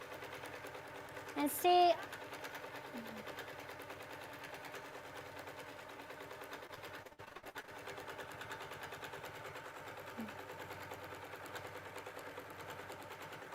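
A Q'nique 19 quilting machine stitches in a steady, fine, fast hum with regular needle rhythm throughout, while a person speaks briefly near the start.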